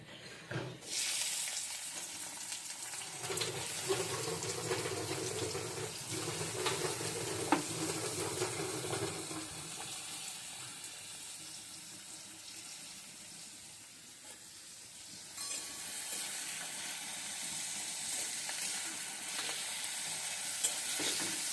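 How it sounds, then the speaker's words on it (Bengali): Potatoes and onions frying in oil for egg chow mein, a close hissing sizzle with stirring and a watery gurgling stretch early, fading quieter mid-way then swelling again. "এখন আলু আর পেঁয়াজটা ভেজে নেব"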